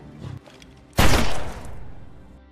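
A single gunshot rings out in a film scene where the Congolese prime minister is shot dead. A sharp, loud boom after a quiet moment trails off into a fading rumble.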